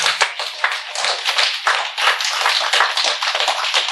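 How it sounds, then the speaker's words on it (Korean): A crowd claps together in a dense, steady burst of applause that carries on without a break, with no talking over it. "박수 좀 치라고"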